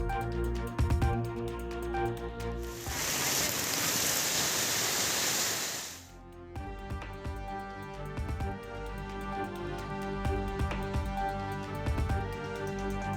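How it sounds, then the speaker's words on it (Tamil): Heavy rain falling across parts of Tamil Nadu, a dense hiss of downpour that surges loud for about three seconds in the middle, with musical tones running under the rest. "தமிழகத்தின் பல்வேறு பகுதிகளில் பரவலாக பெய்த மழை."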